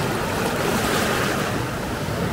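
Sea waves break around a pyramidal rock on a North Wales beach, a steady broadband wash of surf with some wind noise, continuous and fairly loud with no voices.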